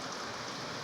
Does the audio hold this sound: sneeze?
no